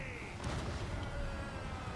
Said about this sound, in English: There we go, some cannon fire getting to one of the group of the Blood Knights